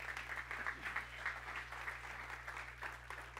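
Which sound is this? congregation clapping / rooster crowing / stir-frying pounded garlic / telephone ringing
congregation clapping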